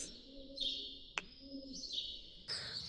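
Pigeons calling inside a desert cave, soft warbling coos that come and go in a quiet space, with one sharp click in the middle.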